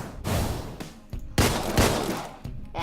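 Video game gunfire, with loud, close bursts of shots and sharp reports cracking in quick succession, then a few separate louder blasts.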